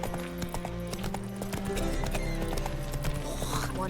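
Roach the horse in The Witcher 3 walks along, hooves clip-clopping in a quick, even rhythm close by, over a droning musical and ambient game background.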